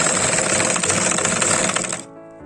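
A sewing machine runs fast along the edges of a child's frog dress, a rapid, even mechanical rattle close by that stops abruptly near the end, leaving quiet.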